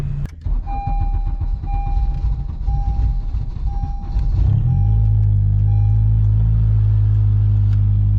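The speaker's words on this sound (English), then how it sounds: "E85 cold start. My idle's a little bit lean right now." A boosted Honda Civic running on E85 cranks with a chiming door beep in the background, then catches and settles into a loud, steady, slightly lean cold-start idle close by.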